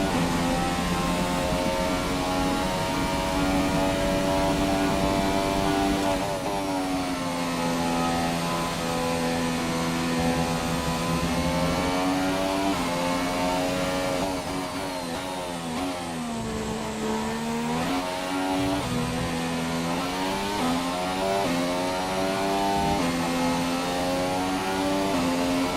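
A Formula 1 car engine in Codemasters F1 2017 at Silverstone qualifying screams steadily for a long stretch, its high whine rising and dipping with gear changes as it accelerates hard.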